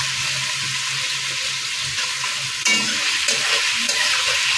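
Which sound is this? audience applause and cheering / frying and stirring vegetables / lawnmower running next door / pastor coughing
frying and stirring vegetables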